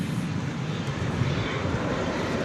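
An airliner flies at DFW Airport after dark, its jet engine roar a broad, steady rumble at moderate distance, continuous through the stretch with no talking over it.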